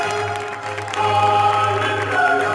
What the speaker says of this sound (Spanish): Fuertes aplausos a estos jóvenes y niños